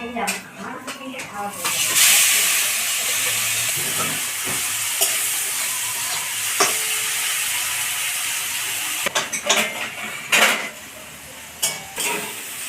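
Shrimp fry in oil with salt and turmeric in a pan, making a loud, close, continuous sizzle broken by scraping stirs and clinks of a utensil against the pan, with a voice speaking over it.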